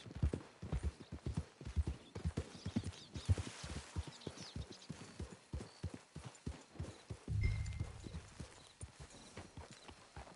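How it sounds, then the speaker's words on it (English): Horse hooves clip-clop in a steady walking rhythm near a camp in a wild west setting, the close, distinct knocks running throughout with a brief low rumble and a faint whinny. "It's your horse"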